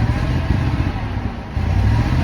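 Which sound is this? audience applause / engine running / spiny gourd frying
engine running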